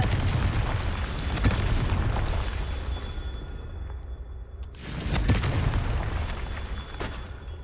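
A fiery Confringo spell blast from a wizarding action game erupts in loud booming bursts, with a brief quiet gap before another round of explosions.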